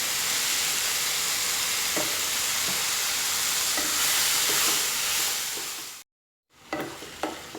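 Garlic paste sautéing with salt in a hot pan for mushroom gravy, giving a loud, continuous sizzle with faint stirring scrapes. It stops briefly, then resumes.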